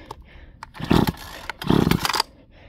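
A Husqvarna 322L weed trimmer with a steel blade is pull-started on choke, two loud sputtering engine bursts, each about half a second, with faint clatter between them and no talk.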